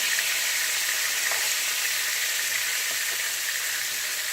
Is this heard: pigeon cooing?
no